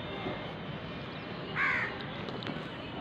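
A single harsh crow caw rings out briefly from a balcony against a steady background hum, with no other voices nearby.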